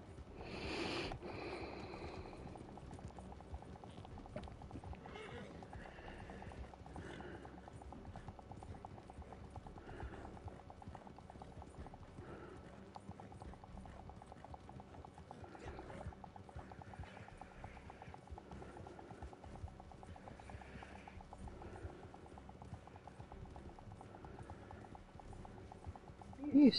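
Horse hooves clip-clopping at a steady walking rhythm in a Wild West video game, a continuous run of muted footfalls over low background hum, with a player talking now and then.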